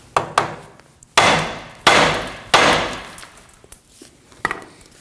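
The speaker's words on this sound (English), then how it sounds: "Now I'm going to use a hammer and strike on the knuckle right on the back side here." A hammer strikes the steering knuckle on a Ford Edge during front control arm work, about seven sharp metallic blows at uneven intervals, several loud with ringing decay and a few lighter taps.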